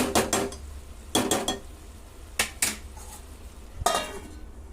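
Tomatoes and green chillies are stirred in a pan, giving four clusters of sharp utensil clatter and scraping with quiet pauses between them and no talking.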